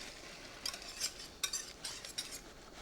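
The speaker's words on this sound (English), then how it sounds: "And then just stir it, and it'll thicken the soup right away." Spoon stirring a roux-thickened clam chowder in a pot, with soft scraping swishes and a few brighter clinks against the metal sides, close and fairly quiet.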